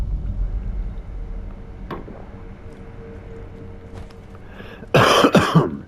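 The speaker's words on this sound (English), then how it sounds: "Cough in your ear." A single harsh cough bursts out near the end, loud and close, after a few seconds of quiet background rumble and faint clicks from Sekiro: Shadows Die Twice gameplay.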